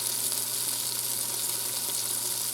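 Steak browning in an Instant Pot, a continuous bright hiss of sizzling meat and fat, steady and even in level from start to finish with no voices.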